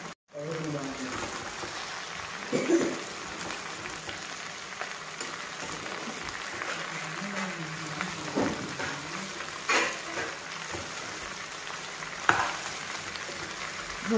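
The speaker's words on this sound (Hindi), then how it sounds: "हम अच्छे से इसको मिक्स करेंगे ताकि इसके प्याज नीचे रहें तो वो जल जाएंगे, इसलिए इनको अलट पलट कर लेंगे" Dahi bhindi, okra with onions, gets stirred and turned in a hot pan, giving a soft, steady sizzle with faint scraping knocks now and then; a voice speaks quietly underneath.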